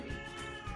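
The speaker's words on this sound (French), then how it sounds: "ça c'est mon chat Louisa" A domestic cat gives a single drawn-out meow, close and clear, with a slight rise and fall in pitch over quiet surroundings.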